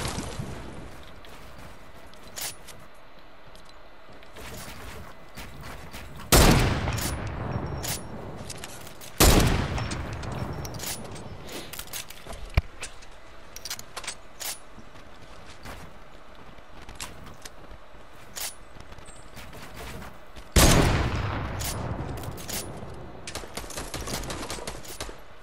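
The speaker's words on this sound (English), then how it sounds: "A grenade launcher." Grenade launcher fire in a Fortnite match: a few sharp, loud bursts stand out over a busy background of rapid clicks and smaller gunfire, spaced irregularly across the stretch.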